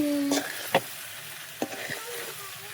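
Potatoes are stirred and mixed in a frying pan for bugla bateka, with a few sharp scrapes and clinks of the utensil over a soft, steady sizzle.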